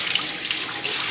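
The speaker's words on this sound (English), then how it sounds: "So now we're going to rinse the clothing underwater here." Tap water pours steadily into a stoppered sink while clothing is rinsed underneath, a close, continuous hissing splash with slight surges and no speech.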